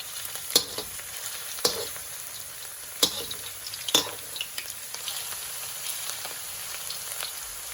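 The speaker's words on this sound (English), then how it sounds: "Once the oil starts shimmering, starting to move a little bit. We're going to throw in the garlic." Chopped garlic sizzles in hot shimmering oil for Vietnamese garlic noodles, a steady crackling fry punctuated by several sharp clinks and scrapes of a utensil against the pan, close and without talk.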